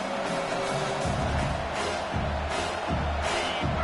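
A stadium crowd cheers in a college football video game, forming a steady, dense roar that fills the whole stretch without pause.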